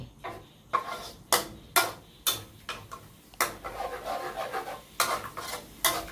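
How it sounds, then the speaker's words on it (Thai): A spatula scrapes and knocks repeatedly against a pan while canned fish chili paste is stir-fried, sharp metallic strokes in an uneven rhythm at close range, no voices. "ผัดและรอให้ ปลากระป๋องเดือดอีกครั้งหนึ่ง"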